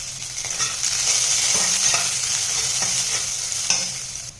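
Green chillies, curry leaves and ginger roasting in a pan give a steady hissing sizzle, broken by repeated spatula scrapes as they are stirred, close up with no speech.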